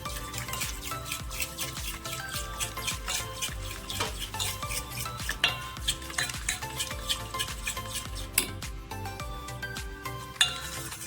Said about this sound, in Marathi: आणि ही साखर आता तेलात छान मिक्स करून घ्यायची